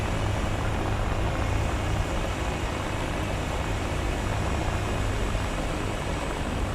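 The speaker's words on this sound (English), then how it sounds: "I think one of the planes is near me." A steady, loud aircraft engine drone fills the scene in War Thunder near an FR-1 Fireball, a continuous broadband roar with no breaks or talk.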